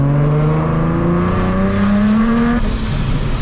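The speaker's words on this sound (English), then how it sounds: "Another reason why I love the supercharger so much is the sound." Supercharged Nissan 370Z, a 650 WHP build, revs hard with a rising harmonic engine note that climbs steadily for about two and a half seconds, then eases off; loud and close with no talk over it.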